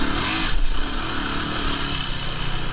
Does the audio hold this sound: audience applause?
no